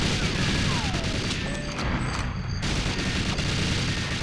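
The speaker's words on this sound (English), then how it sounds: "Now destroy the ammo dump." Ammo dump destroyed in the N64 game GoldenEye: a dense, continuous roar of explosions and rapid gunfire-like crackle, loud and steady throughout with a brief dip in the middle.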